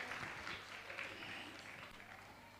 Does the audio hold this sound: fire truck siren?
no